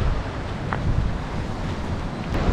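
Sea waves washing in at Gandhi beach, Pondicherry, on a sunny morning, a steady broadband roar of surf mixed with strong wind buffeting the microphone, continuous and close with no voices.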